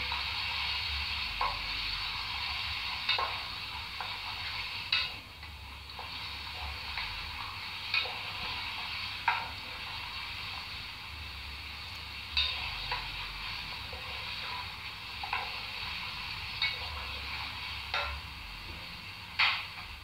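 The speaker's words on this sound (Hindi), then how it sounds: "इसमें सारे गरम मसाले जाएंगे और 5 सेकंड के लिए इनको भी फ्राई करें।" Chicken fries in a pan with garam masala spices for a murgh cholay curry, giving a steady soft sizzle with small pops and ticks recurring every second or so, fairly faint and without talk.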